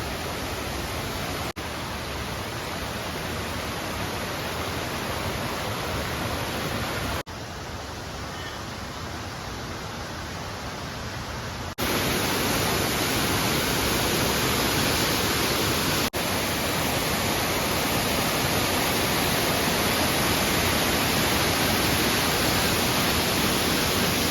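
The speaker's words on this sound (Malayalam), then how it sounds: "ഈ കോട്ടയം ജില്ലയിലെ അരുവിക്കുഴി വാട്ടർഫാൾസ്" Aruvikkuzhi waterfall in Kottayam district pours with low summer flow, making a constant broadband roar with no pauses. The rushing water sounds steady and fairly close throughout.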